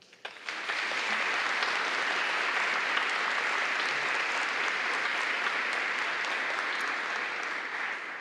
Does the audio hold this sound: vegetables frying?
no